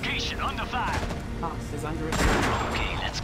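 Gunfire in the real-time strategy game Act of War: Direct Action, heard as a burst of booming shots and rattling fire under clipped radio-style voices in the game's combat audio.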